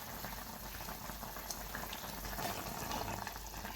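A pot of Ravas fish curry simmers with a continuous soft bubbling and hiss, low in level and even throughout, with no voices over it.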